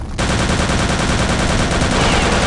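MP40 submachine gun firing in Return to Castle Wolfenstein against zombies, a loud, dense, unbroken burst of rapid automatic shots that lasts the whole stretch.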